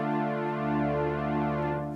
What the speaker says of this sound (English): let's continue with some nice synth strings